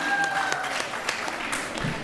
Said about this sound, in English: Big round of applause once again for Sophia and Sanjay